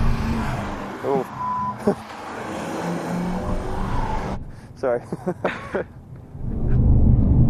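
A car drives over the bumpy Carousel corner of the Nürburgring Nordschleife, its engine droning under talk inside the cabin. The engine dips briefly midway, then swells back loud.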